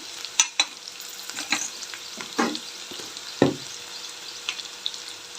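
Green chillies, ginger paste and curry leaves fry in a pan for tomato rice, a soft steady sizzle broken by several sharper spatters and stirring scrapes.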